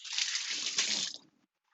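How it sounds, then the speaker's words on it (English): Hands rinsed under a running kitchen tap after handling preserved lemons, a steady close splashing stream for just over a second that cuts off abruptly, with faint drips after. "I'm going to rinse my hands off real quick."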